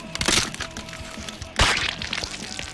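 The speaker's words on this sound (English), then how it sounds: "Appropriately gross sound effects accompany the carnage and the extremely graphic finishers" Gory carnage effects from the video game Splatterhouse: two loud, wet crunching cracks about a second apart, each trailing into splattering noise.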